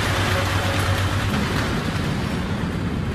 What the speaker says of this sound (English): out here in the rain